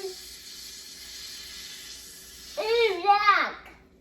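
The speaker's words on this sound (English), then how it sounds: "It's just a little fizz." A shaken bottle of homemade second-ferment kombucha fizzes with a steady hiss, then a louder bubbling gush builds near the end, with a voice nearby.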